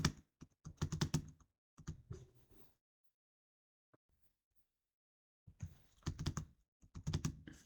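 Close, crisp keystrokes on a computer keyboard come in quick bursts, with a pause of near silence in the middle before the typing picks up again, entering text into a spreadsheet cell.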